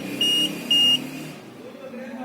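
A 12V/24V UPS board's low-battery buzzer sounds two short, shrill beeps, close and steady, while someone talks underneath.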